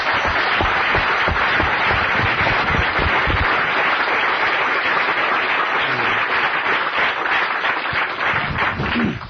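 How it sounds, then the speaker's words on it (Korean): A church congregation breaks into thankful applause, a loud, dense wash of many people clapping that holds steady for about nine seconds, with no one speaking over it. "우리 한번 감사 박수하겠습니다"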